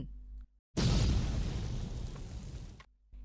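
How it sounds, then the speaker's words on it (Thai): A loud explosion sound effect from an audio novel bursts in abruptly, a heavy rumbling blast that holds for about two seconds and then cuts off over a low background hum. "พริบตาเดียวเสียงระเบิดที่รุนแรงก็ดังขึ้น"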